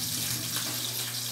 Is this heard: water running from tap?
yes